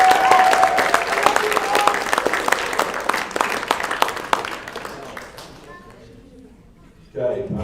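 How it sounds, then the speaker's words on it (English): Audience applause at a high school sports banquet as athletes clap for their parents, a dense burst of many hands that thins out and fades near the end, with voices talking over it throughout. "I'd like athletes to give your parents a round of applause"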